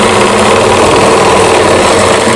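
Sewing machine running steadily while stitching a row of long, large stitches on cloth, a continuous close mechanical whir with fine rapid ticking throughout, no voice.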